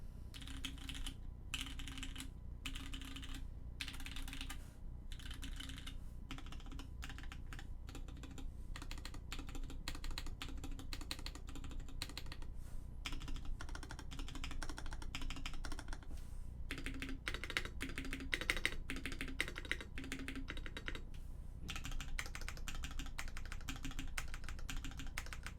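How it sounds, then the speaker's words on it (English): Fast typing on a second mechanical keyboard with a bright, clacky tone, dense bursts of close key strikes with short gaps, continuous and unaccompanied by speech. "this board is much more thocky, whereas this board is much more clacky, so there's a lot more clack"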